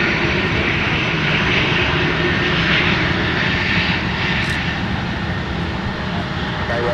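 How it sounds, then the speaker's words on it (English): A United airliner taxiing on a winter taxiway at Minneapolis–Saint Paul airport gives a loud, steady jet engine roar close by, with faint voices underneath. "United 1281 is going to pass in front of us here in just a second."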